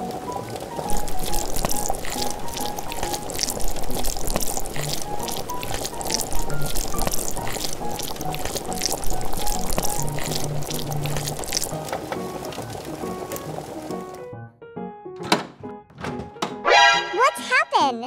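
Water is poured steadily while fruit jelly is being made with sugar. A long, even splashing rush fades out near the end, followed by a few thunks and brief voice sounds.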